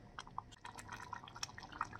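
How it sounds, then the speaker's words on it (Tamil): Tamarind water poured from a ladle into a simmering lentil and greens curry, giving faint, close, irregular drips and splashes of liquid over a quiet bubbling background. "நான் ஒரு கரண்டி மட்டும் புளி தண்ணி சேர்த்துக்கிறேன்"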